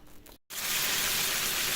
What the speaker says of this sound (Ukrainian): А зараз ось смажиться на цій же сковороді.